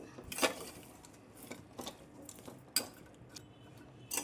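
Mango pieces are stirred with sugar and salt in a pan, giving sparse, quiet ticks and scrapes of a utensil against the metal at irregular intervals.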